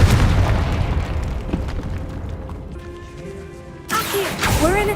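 In Hogwarts Legacy, a Confringo blast spell sets off a loud booming explosion that slowly decays into a low rumble, then a shimmering burst of magical effects follows near the end.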